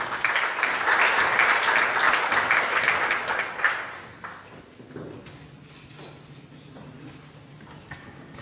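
Conference audience applauding to welcome a speaker, a dense, steady burst of clapping for about four seconds that then fades into quieter room noise with scattered faint claps.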